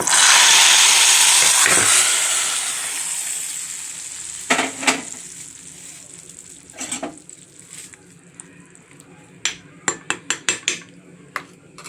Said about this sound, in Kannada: ಮೊಸಪಿಗೆ ಒಗ್ಗರಣೆ ರೆಡಿ ಇದೆ. ಅದನ್ನು ಹಾಕ್ಬಿಡೋಣ